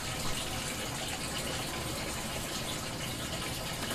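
Water drains from hydroponic ebb and flow cups through small holes in their bottoms, a steady close trickling and gushing wash that holds level and continuous throughout with no talk.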